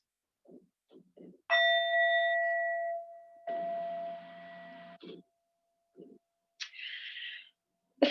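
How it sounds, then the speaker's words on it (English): A few soft taps, then a metal singing bowl is struck once and rings with a clear, sustained tone that slowly fades, followed by quieter rubbing and knocks. "It is called a singing bowl, and it sounds like this."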